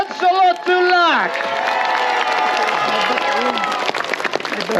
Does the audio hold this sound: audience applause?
yes